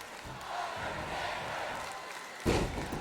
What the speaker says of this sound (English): This crowd really behind The Undertaker early on. You can hear the chants.